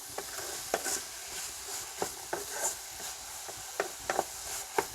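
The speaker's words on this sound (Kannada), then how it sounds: "ಇದನ್ನ ತರಕಾರಿನ ಮತ್ತು ಟೊಮೊಟೊ ಈರುಳ್ಳಿ ಎಲ್ಲದನ್ನು ನೋಡಿ ನೀಟಾಗಿ ಫ್ರೈ ಮಾಡ್ಕೊಂಡಿದ್ದೀನಿ" Vegetables with tomato and onion frying in a pan, a soft steady sizzle with scattered clicks of a utensil stirring through it, fairly quiet and with no voices.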